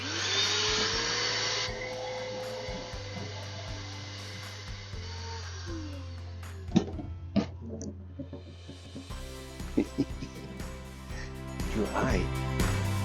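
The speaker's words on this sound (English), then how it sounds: "Then I will vacuum the rest of it out of the tank." A vacuum draws the last water out of a tank aboard a Bayfield 25 sailboat being winterized, a steady close whine that cuts off partway, followed by faint clunks and handling noises.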